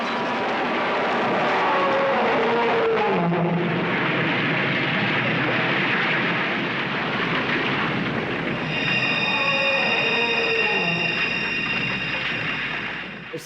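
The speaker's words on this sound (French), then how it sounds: "Mettons un rugissement de dinosaure quand il se renverse et qu'il meurt." A truck crashing and going over with a dinosaur roar blended in, from the 1971 film Duel: a loud, sustained, grinding roar with wavering tonal cries that swell and fade over several seconds.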